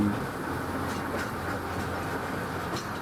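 Heritage railway train on the Welsh Highland line running straight through a station platform, a close continuous rumble and rattle of wheels with faint clickety-clack, heard without speech.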